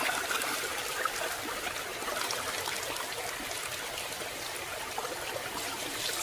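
Water washes steadily over a rock from a landslide at the Coosa River waterfalls, a constant hissing trickle and rush of flow, close and even in level, with no voices.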